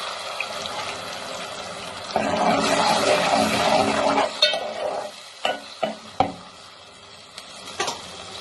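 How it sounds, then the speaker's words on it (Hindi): Ground onion paste hitting hot oil in a pan for kofta curry, a loud burst of sizzling and stirring that fades into gentler frying with several sharp utensil scrapes and knocks. "इसके बाद हम इसमें डाल देंगे पिसी हुई प्याज जो हमने पीस ली थी।"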